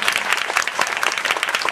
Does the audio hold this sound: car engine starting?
no